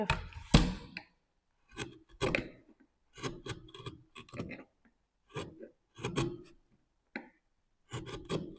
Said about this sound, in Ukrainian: хруст дерева насправді заворожує